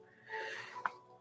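One big breath taken in, a short close wheezy inhalation with a breathy rise and a brief sharp snort-like burst near its end.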